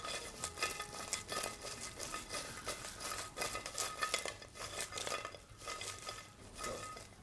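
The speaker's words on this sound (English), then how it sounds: "So just give them a good old mix." Hot potatoes being tossed with spices in a bowl, giving continuous rhythmic scraping and stirring with soft clatter, fairly quiet and close.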